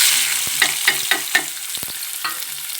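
Onions frying in a pan for mutton curry, steady close sizzle broken by several spoon scrapes and clinks as they are stirred, no talk.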